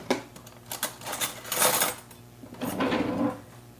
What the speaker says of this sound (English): I'll get a spoon.